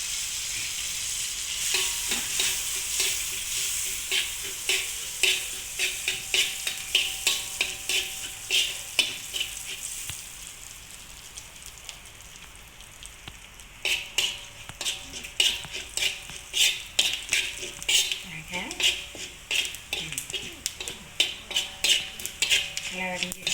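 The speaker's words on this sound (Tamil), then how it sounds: "இப்போ கடுகு தாளிப்பு," Mustard seeds and green chillies tempering in hot oil for mint chutney, crackling and popping in dense rapid bursts alongside repeated metallic scraping and clinking of a spoon against the pan, close and loud, with no talking.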